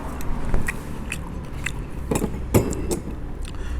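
Close, crunchy bites and chewing of a spicy Thai rice noodle salad with pork sausage, irregular moist crunches with light clinks of cutlery or dishes, no talk.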